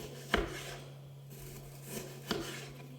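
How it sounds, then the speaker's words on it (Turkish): A knife chops meat on a board in a home kitchen while preparing food, two faint, isolated thuds about two seconds apart against quiet room hum. "İlk önce şöyle etimi doğrayayım."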